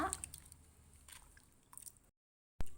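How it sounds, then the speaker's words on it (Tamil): Rice flour dosa batter with salt is stirred by hand, making soft, wet squishing and squelching sounds that are quiet and close, followed by a brief silence and a dull thump. "இப்போ இதை எல்லாத்தையுமே சேர்த்து நல்லா கலக்கி விட்டுக்குங்க."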